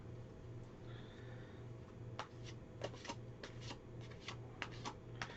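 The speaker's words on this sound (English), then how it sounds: "I shuffle my Wizard's Tower a lot easier than these" Oracle cards are shuffled by hand at a reading table, producing soft repeated riffles and sharp papery snaps in an uneven rhythm, close and quiet over a faint low background hum.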